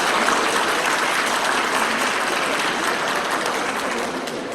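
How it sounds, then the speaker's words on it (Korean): Audience at a Korean public procurement expo ceremony applauding a guest of honour, dense steady clapping from a large hall crowd that holds loud and even for several seconds before easing slightly. "한 박수로 환영해 주십시오."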